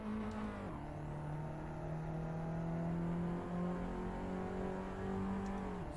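Race car engine in the Assetto Corsa video game, heard close and steady throughout as a loud sustained drone that dips and then climbs again through a hairpin, with no talk.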